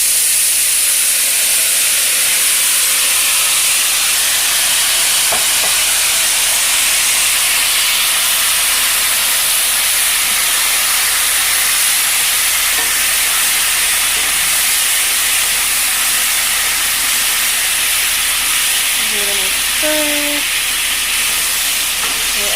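Chicken broth poured into a pan of golden-browned mushrooms, sizzling and hissing loudly and steadily with a dense steamy crackle, plus a few brief clinks of utensils near the end.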